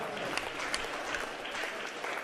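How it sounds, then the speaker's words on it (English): A squash crowd at the 2018 Squash XL Open semi-final applauds after a long rally. The clapping is moderately distant and steady, with a few sharper claps poking through. "Crowd going wild there."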